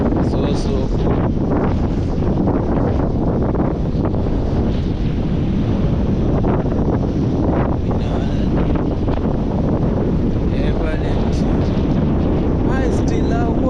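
Strong wind at Diana Beach buffeting the microphone in a constant loud roar, with surf and waves churning underneath for the whole stretch.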